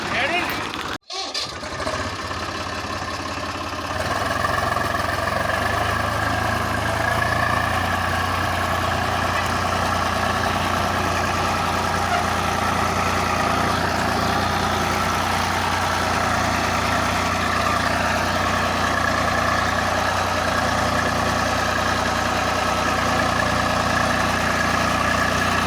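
A Swaraj 735 tractor hitched to a trolley loaded with maize starts with a brief sputter and then idles for a long stretch, its low, even engine rumble close and steady throughout.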